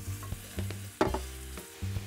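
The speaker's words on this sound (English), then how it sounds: "we're just gonna start sauteing that in the olive oil" Onions, peppers and garlic sauteing in olive oil, a soft sizzle broken by several scraping stirs from a utensil against the pan, close and quiet, with no talking.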